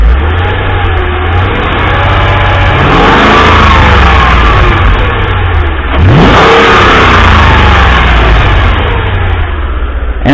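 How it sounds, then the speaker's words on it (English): Mercedes G Wagon W463 engine revving loudly up close, with a steady mid-low roar that rises in pitch around three seconds and again near six, under an open hood during fan clutch work. "I'll rev it up."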